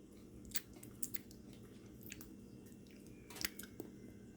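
Raw Sisso spinach leaf crunched close to the mouth, a few quiet crisp bites and chews at irregular spacing, faint against a soft background.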